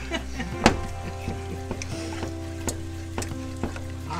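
A pan of food sizzles steadily while a utensil scrapes and stirs through it, giving a few sharp clacks against the pan over a constant low hum.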